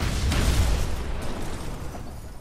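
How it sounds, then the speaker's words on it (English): An explosion in the video game Batman: Arkham Asylum, a loud booming burst with low rumble that decays over about two seconds. "Dramatic explosion."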